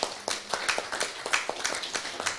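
Audience clapping at a Kenyan anniversary event, a loose patter of hand claps from a modest crowd, fairly faint and steady without talk.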